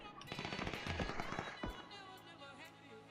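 Rapid bursts of gunfire in a competitive online shooter match, crackling shots stacked close together with quieter scattered pops after, all busy and fairly loud over a game's background noise.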